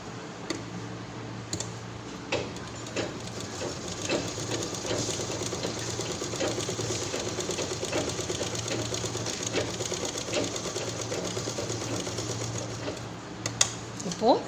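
A sewing machine stitches a cloth purse in one long, steady run of fast mechanical ticking, close and fairly quiet, with a few sharper clicks near the end and a voice talking faintly along with it.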